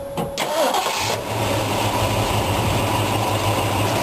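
A 1965 Ford Mustang GT with an Autolite 4100 four-barrel carburetor cranks briefly, then catches and settles into a steady, rumbling idle, close by and loud, with no talking.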